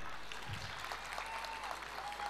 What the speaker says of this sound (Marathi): त्यांना टाळ्या वाजवा एकदा सगळ्यांनी